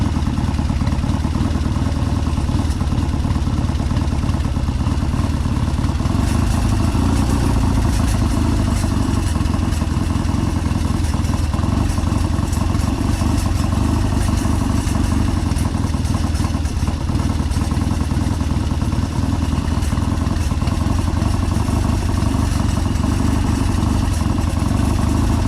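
A Triumph Bonneville T140V twin with Amal 930 Concentric carburettors idles steadily, a close, even mechanical chug with light clatter running throughout.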